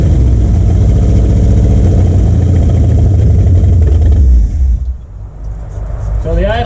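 Engine of a Ford Galaxy 500 left in a barn since 1993 runs loud and rough at idle, a steady pulsing rumble that sags and nearly dies toward the end, with a voice over it.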